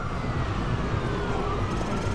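Russian police siren in the Call of Duty Modern Warfare 2 video game, a steady wailing tone over dense game noise and rumble, loud and continuous throughout.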